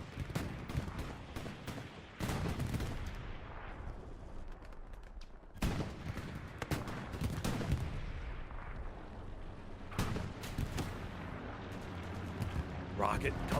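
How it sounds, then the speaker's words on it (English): A rocket slams into a P4 tank during a Hell Let Loose match, amid a dense mix of heavy booming blasts and rattling gunfire that swell and recede repeatedly, loud and close, with talk over the top. "Rocket comes in down below and takes out the opening P4"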